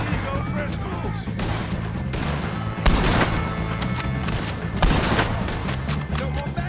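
Red Dead Redemption 2 shootout with O'Driscolls: a couple of heavy gunshots boom over a busy, loud game mix of music and effects, with voices faintly present.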